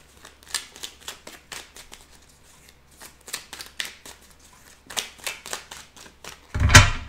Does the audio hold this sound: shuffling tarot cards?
yes